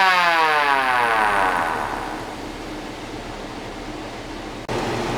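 A hand-cranked wooden siren growls low and steady, its pitch sliding down as it winds slower, with a sharp click near the end.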